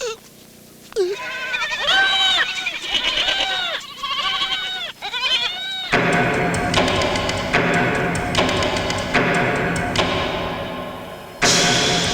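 A goat bleats over and over in loud, wavering calls for about five seconds. A broad, noisy stretch follows, and one more sharp burst comes near the end.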